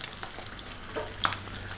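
Pork skin frying in a pan, a faint continuous sizzle with small crackles and pops, one sharper pop standing out, over a low steady hum.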